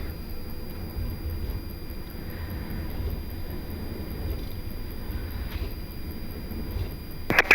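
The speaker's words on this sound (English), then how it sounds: "Starting engine 2." Engine number 2 of an Airbus A330-200 jet airliner spools up during its start sequence, heard from the cockpit as a steady, continuous turbine roar and hum at moderate level, with a brief click near the end.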